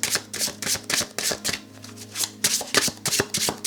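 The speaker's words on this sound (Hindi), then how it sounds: "हम आपके कार्ड्स को शफल करेंगे" Tarot cards are shuffled in a steady run of crisp, rapid riffling bursts, close and fairly loud, with a faint low hum underneath and no voices.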